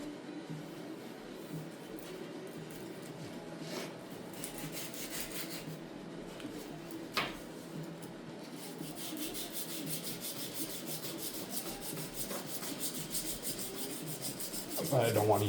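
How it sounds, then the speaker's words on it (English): Steady hand sanding on a classic car trim part, a continuous close rubbing rasp that persists throughout with one brief sharp knock midway and a louder scrape at the end. "Because I don't want to sand too much all the way around it."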